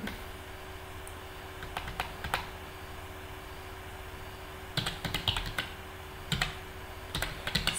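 Scattered bursts of computer keyboard typing while writing code for an AI assistant, quick clustered keystrokes over a steady fan-like hum, with quiet gaps between bursts.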